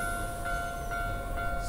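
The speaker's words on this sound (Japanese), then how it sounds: "そして梅田行きの電車" A Hankyu Senri Line commuter train bound for Umeda rumbles past a level crossing at steady volume with a low continuous roar and faint tonal hum, heard from moderately close.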